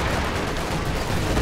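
Dense, continuous battle din from Company of Heroes 2, a World War II strategy game, with machine guns and artillery blending into a steady low rumble of gunfire, loud and unbroken throughout.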